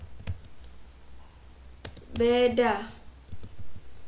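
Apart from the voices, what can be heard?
typing a MATLAB script on a computer keyboard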